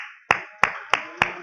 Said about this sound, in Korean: 한번 박수 한번 쳐보십시다.